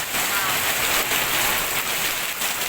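Heavy rain pours steadily, a dense continuous hiss of water drumming on surfaces, loud and close, with no talking.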